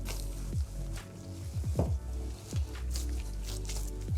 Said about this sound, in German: Jetzt macht ihr eure Hände nass und holt den Teig komplett aus der Schüssel raus